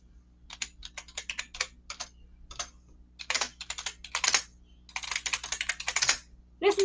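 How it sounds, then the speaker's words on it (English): Clicky computer keyboard typing in rapid bursts of keystrokes with short pauses, close and fairly loud, with a faint steady hum underneath and no talking. "I'm here typing away, typing away."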